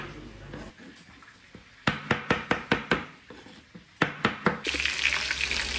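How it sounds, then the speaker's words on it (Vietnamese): A knife chops pineapple on a cutting board in two quick runs of firm, evenly spaced thuds, then running water starts. "cắt thêm khóm để mình làm nước sốt cho phần vịt sốt ngũ vị."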